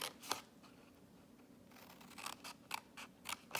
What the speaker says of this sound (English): cut these 2 here, and then I'm going to miter cut these 2 down here